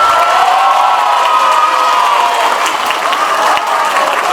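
A large crowd at a Maulid Nabi Muhammad SAW commemoration applauds and cheers for SMA Negeri 1 Patok, loud sustained clapping mixed with shouts and whoops that hold steady throughout.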